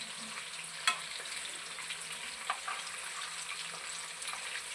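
Garlic chicken kebab pieces frying in a pan, giving a steady soft sizzle with a few faint clinks and stirring touches, close but gentle and with no talking.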